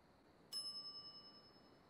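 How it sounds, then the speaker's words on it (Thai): A single sharp ding from a shop counter bell in The Secret of Monkey Island, bright and metallic, its ring decaying slowly over more than a second in otherwise quiet surroundings. "some idiot's already ringing that stupid bell"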